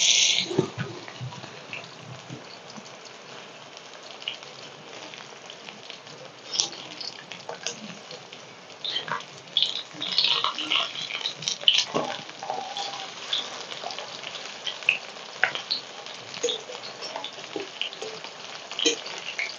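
Whole eggplant pakoras fry in hot oil, giving a continuous crackling sizzle with scattered sharp pops and spits that grow busier partway through, close and moderately loud with no talk.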